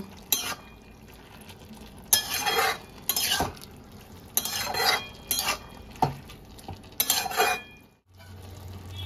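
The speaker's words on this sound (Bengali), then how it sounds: "আদাটা লাউয়ের সঙ্গে ভালো করে মিক্স করে নেব।" A spoon stirs ginger paste into bottle gourd in a pan, giving bursts of scraping and clinking against the metal, with quieter pauses between strokes and a soft sizzle underneath.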